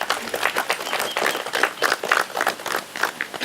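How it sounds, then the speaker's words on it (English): Wedding guests give warm applause for the bridal group, a close, lively burst of many hands clapping with uneven rhythm and slight swells in loudness. "so a small applause please"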